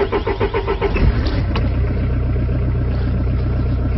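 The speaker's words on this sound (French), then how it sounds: "Faut que je mette le moteur en marche." Car engine starting up, then settling into a steady idle, close and continuous with a brief rise near the start; recorded inside a car used for radio operation with Yaesu FT-450AT equipment.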